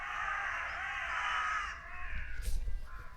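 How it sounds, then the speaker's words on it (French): Crows fighting outdoors near a construction trench, harsh overlapping caws loud and sustained at first, then breaking into scattered calls over low rumbling background noise. "Il y a de la baston chez les corbeaux."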